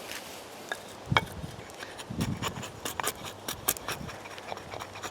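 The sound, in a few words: axe carving wood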